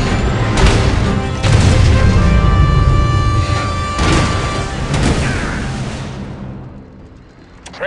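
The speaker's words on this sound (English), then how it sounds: "Warhead launched." Warhead launch explosions in the Command & Conquer: Rivals mobile strategy game, a series of heavy booms and blasts with ringing tones, loud and dense before fading out near the end.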